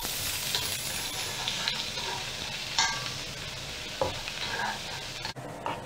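Chopped onion and cumin seeds fry in a pan with a steady close sizzle, punctuated by a few light clinks and scrapes of a utensil stirring.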